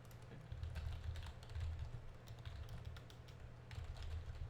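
Typing on a computer keyboard: steady clusters of quick, light key clicks at close range, continuous and uneven in rhythm, with no talking.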